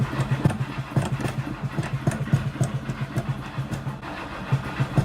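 The engine of a 1963 Buick Riviera cranks over steadily with a rapid pulsing starter rhythm, loud and close, without catching during the attempt.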